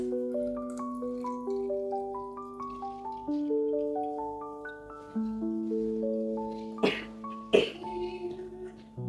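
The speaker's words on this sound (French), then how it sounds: "je mets mon reste d'eau ici" Leftover water from making a rice skin lotion is poured into a container, giving a gurgling stream whose pitch climbs steadily as it fills, ending with a couple of louder splashy knocks.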